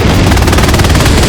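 A machine gun fires in Hell Let Loose with a loud, continuous burst of rapid, evenly spaced shots that holds steady for the whole moment.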